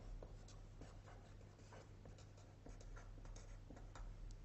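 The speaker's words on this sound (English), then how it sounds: "So let's write this in symbols." Pen or chalk strokes scratch and tap as logic symbols are written by hand, in short irregular bursts over a low steady hum. The sound is quiet and close, with no speech.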